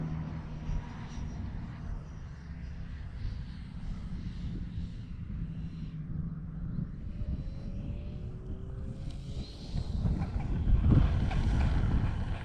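An Arrows RC F-15 model jet touches down on grass outdoors, a low rushing whine and rumble under steady wind buffeting that swells louder near the end.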